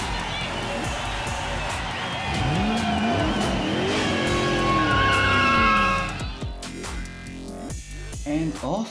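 Go-karts launch in a Unity simulation game with loud engine revving and rising, sweeping motor tones, then tire squeals and skidding as the race gets underway, all close and dense, over a faint crowd-like background.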